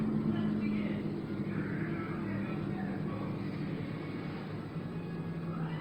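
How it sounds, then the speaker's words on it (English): A garbage truck rumbles nearby with a low, steady mechanical drone and a faint tonal hum, while a person talks over it. "Oh, that's a garbage truck."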